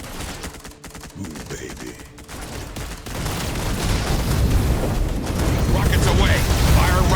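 A rocket barrage fires in the ZeroSpace game, starting with scattered mechanical bursts, then building after a few seconds into a dense, loud, continuous roar of launches and blasts, with a brief voice speaking over the opening.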